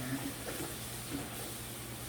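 Steady running water splashes in a sink, a continuous faint wash with small clinks of dishes being rinsed.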